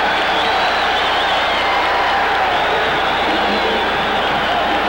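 Roaring crowd in a basketball arena at a 1988 Missouri versus Illinois college game, a loud sustained wash of cheering and applause that fills the space without letup.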